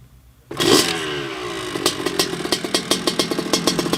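A 1986 Honda CR125R two-stroke motocross bike fires on the first kick, then revs in a string of sharp, rising throttle blips, loud and close with no talking.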